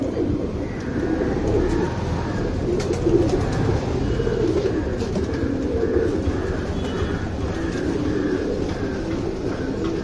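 Kathang breed pigeons, a male and a female, coo in soft repeated low calls that come and go over a steady rumbling background, close by and with no talking.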